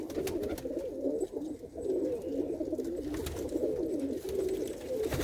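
Select home-kept pigeons with white and yellow eyes coo continuously in a thick, murmuring chorus nearby, the sound even and unbroken, with no voices.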